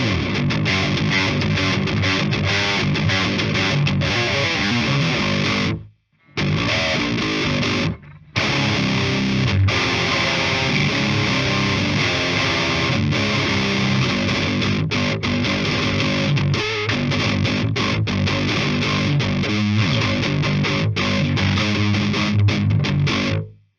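A heavily distorted electric guitar through an Orange Dark Terror amplifier plays thick, crunchy chords and riffs, loud and sustained, with two brief silent gaps early on.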